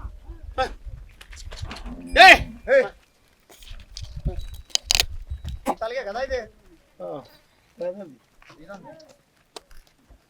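Herd of around three hundred cows and sixty calves on a dairy farm, several moos and calf bawls sounding near and far, mixed with bird calls and brief human voices.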